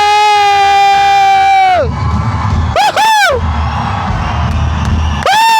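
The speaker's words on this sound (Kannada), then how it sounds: "ನೋಡಿ ಸೌಂಡ್ ಇವಾಗ, ಕ್ರೌಡ್ ನೋಡಿ ಇವಾಗ." A large crowd roars and whoops at a live concert stage entry during a motorcycle day event in Bengaluru, loud and continuous, with sustained shouts rising and falling over the massed cheering.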